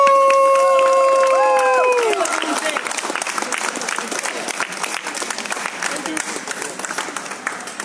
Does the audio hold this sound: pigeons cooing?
no